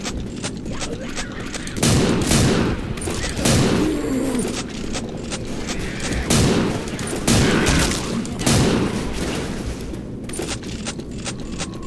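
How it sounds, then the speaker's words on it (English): Shotgun blasts ring out in Left 4 Dead 2, a handful of heavy booming shots spaced a second or so apart over a steady din of game noise. "I think it's one of my favorite shotguns out of the whole game"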